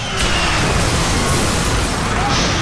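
A loud, sustained explosion effect from an action film trailer about a harbor city, a deep booming roar that holds across the whole clip with crackling debris on top.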